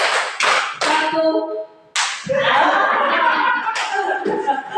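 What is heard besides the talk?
rhythmic group clapping ice-breaking game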